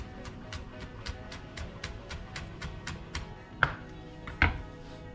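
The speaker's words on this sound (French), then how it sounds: "hacher assez finement" A knife chops fresh thyme finely on a board in quick, even, close strokes, about a dozen rapid taps, ending with two heavier, louder knocks.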